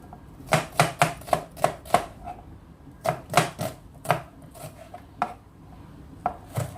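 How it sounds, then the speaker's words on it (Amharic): Two red onions being chopped with a knife on a board, a run of crisp rhythmic cuts in quick bursts with short pauses, close and fairly clear with no voices. "እዚህ ጋር ሁለት ቀይ ሽንኩርት አዘጋጃለሁ። እስኪበስል እንከታተፋለን።"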